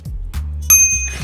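A single bright bicycle bell rings once, sharp and close, its metallic ding lingering briefly over low background rumble.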